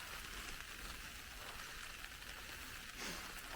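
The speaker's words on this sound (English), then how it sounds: "We're getting in out of the rain." Steady rain falls on a campsite during a backpacking trip in the Algonquin Western Highlands, a constant close hiss of drops on surfaces that runs unbroken throughout, with no talking.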